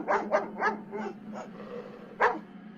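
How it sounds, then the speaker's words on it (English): A dog in the back seat of a car barks in a fast run of five sharp, loud barks, then one more after a short pause, close by and without talk. "immediately started barking loud enough to rupture my eardrums"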